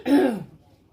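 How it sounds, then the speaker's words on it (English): A single short, harsh cough, close and fairly loud, fading quickly into quiet. "I'm so sick of this stupid cough."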